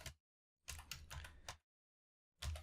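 Quick bursts of computer keyboard typing, a run of keystrokes in the middle and another short burst at the end, separated by silence, close and fairly quiet.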